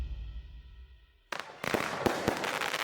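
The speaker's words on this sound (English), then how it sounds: "Fireworks splash" Fireworks burst after a quiet low rumble, several sharp cracks and pops following a sudden loud onset, with crackling sparkle continuing between the louder bangs.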